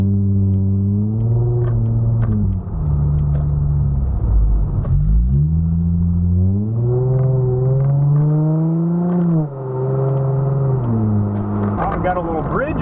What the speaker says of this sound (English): It's pretty loud, pretty drony, but it sounds great from different RPMs.